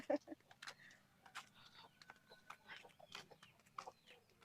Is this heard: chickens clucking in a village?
yes